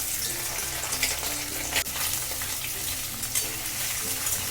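Paneer pieces frying in hot oil over a medium flame, a continuous bright sizzle with the occasional scrape or clatter of a utensil, close and steady, no voices.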